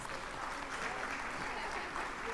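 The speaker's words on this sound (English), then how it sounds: "Keep clapping, keep clapping." Dense, steady audience clapping greets an arriving First Lady at a Merck Foundation First Ladies Initiative gathering, a continuous wash of many hands at moderate level with no pauses.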